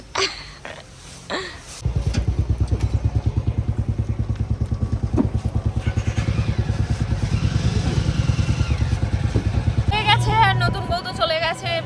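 A motorcycle engine pulses steadily and close by during a ride home, its rapid throbbing running under scattered voices until another tone cuts in near the end.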